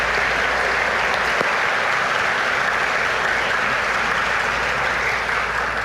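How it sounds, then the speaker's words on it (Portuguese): A church congregation breaks into loud, sustained applause during a service, a dense wash of clapping that fills the room steadily from start to finish, with no voices rising above it. "vamos dar uma salva de palmas a Jesus."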